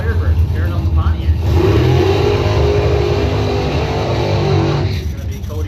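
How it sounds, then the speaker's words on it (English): A 1969 Pontiac Firebird drag car revs and launches at a drag strip, its engine roaring loudly and steadily, with a track announcer talking over it throughout. "69 Firebird, tearing up the Pontiac."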